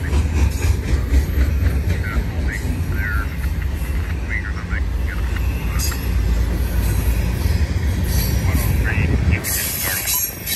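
BNSF intermodal freight train hauling international containers rolls past eastbound at Rana, California, a loud steady rumble with wheel squeals and clanks throughout, swelling near the end; a voice talks briefly.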